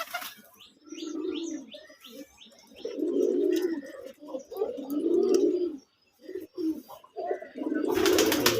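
Pigeons coo repeatedly in low, rounded bursts at a pigeon farm housing Putul Golla pigeons, with scattered chirps and a brief rustle of wings near the end, close and fairly loud.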